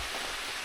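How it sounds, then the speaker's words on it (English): Steady rain falls in a quiet forest on a rainy-season mountain hike in Korea, a soft continuous hiss of drops on leaves and ground with no other sound. "I like the weather, even though it's raining."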